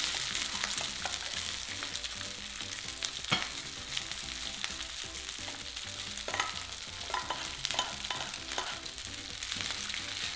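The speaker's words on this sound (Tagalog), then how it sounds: "Hahaluin ko lang muna ito mabuti hanggang sa madistribute na yung bawang sa kanin" Leftover cold rice and garlic stirred in a hot frying pan, a steady bright sizzle throughout with occasional scraping clicks of the spatula against the pan.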